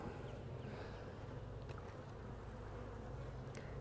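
Dense, continuous buzzing of many honey bees close at an open hive, a steady low drone with no talk.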